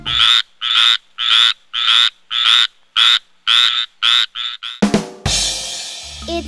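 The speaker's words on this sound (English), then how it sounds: "It's a tree frog." A tree frog croaks from a swamp in a series of about ten loud, evenly spaced pulsing calls, each one a buzzy burst close by, before the sequence breaks off into a noisy rush at the end.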